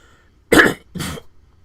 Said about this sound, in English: Just need to clear my throat here.